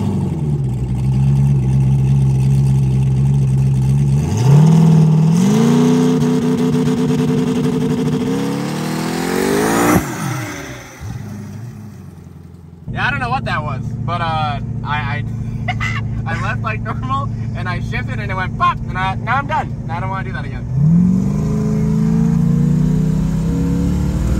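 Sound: LSX-swapped big turbo Mustang drag car launching

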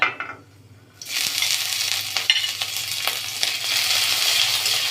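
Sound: spices and grated ginger frying in mustard oil in a kadai

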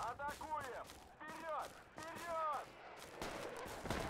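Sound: gunfire in the video game Project Reality

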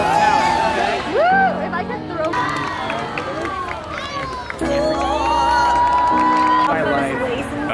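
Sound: full crowd cheering before street magic show

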